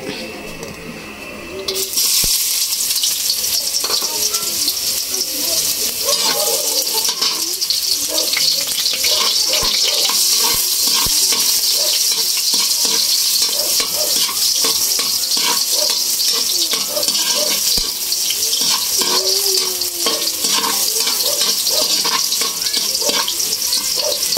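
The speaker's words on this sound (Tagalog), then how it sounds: "igisa na natin yung mga sahog. Unahin natin yung luya." Ginger is sautéed in hot oil at the start of a pork intestine dish, producing a loud, continuous hissing sizzle that runs unbroken after a short quieter opening.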